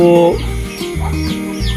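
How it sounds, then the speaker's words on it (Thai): A mother hen that has hatched chicks gives a few low, rhythmic clucks close by, each short and throaty, in a brief burst. "แม่ไก่ที่ฟักไว้นะครับ"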